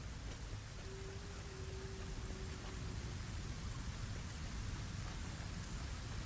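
Steady rain falls throughout in the video game Satisfactory, a dense, even hiss with no voices.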